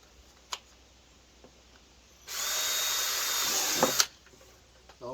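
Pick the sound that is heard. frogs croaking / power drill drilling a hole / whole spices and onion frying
power drill drilling a hole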